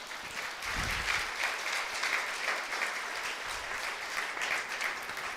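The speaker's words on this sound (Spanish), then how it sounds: "Dele el aplauso al Señor" A church congregation claps together, a broad, steady wash of applause filling the room at moderate level and holding without a break for several seconds.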